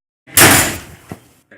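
A door slams hard with a loud, sharp crash that decays over about a second, followed by a smaller knock and a brief faint sound at the end.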